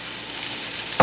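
Surimi drops into a hot pan with an already steady, close sizzle, and a sudden louder burst of frying hiss breaks out at the very end.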